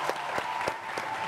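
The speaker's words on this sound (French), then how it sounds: "On va l'applaudir encore très fort, s'il vous plaît." Studio audience applause on a French-language television talk show, a brief burst of dense, steady clapping from a crowd.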